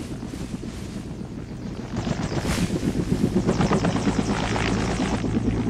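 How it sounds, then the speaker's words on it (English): A helicopter turbine spins up nearby, a steady whine and rumble that grows louder after a couple of seconds as the rotor begins a rapid rhythmic thumping. "So let's start the helicopter."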